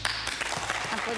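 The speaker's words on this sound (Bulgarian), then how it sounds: "Аплодисменти." A short stretch of clapping from a group, steady and moderately loud, with voices mixed in underneath.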